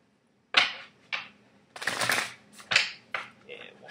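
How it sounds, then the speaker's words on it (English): Oracle cards with animal spirit designs being shuffled by hand, a quick run of crisp riffling bursts with short pauses between them, close and fairly loud, with no talking over them. "I'm going to shuffle again."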